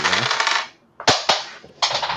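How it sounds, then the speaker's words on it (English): Dice clatter onto a tabletop during a tabletop horror game session, a few sharp close rattles and bounces with short pauses between, nobody speaking. "drop the dice"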